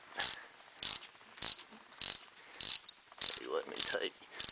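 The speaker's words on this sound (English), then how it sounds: "I'm taking this bolt out, and then I'm going to take this bolt out" A ratchet wrench working a bolt loose on a 1993 Dodge Dakota 3.9L engine, nearby in bursts of rapid clicking, about eight short runs separated by brief pauses.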